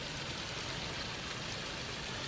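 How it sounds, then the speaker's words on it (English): Steady, soft rush of falling water, a small zoo waterfall splashing continuously with a gentle broadband hiss and no voices. "But that is a nice little serene waterfall they have going there."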